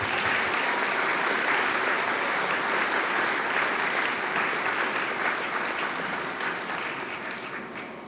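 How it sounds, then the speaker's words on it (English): An audience at a high school awards ceremony gives a long, dense round of applause for students. It stays loud and steady, then slowly fades toward the end. "Big round of applause for our students."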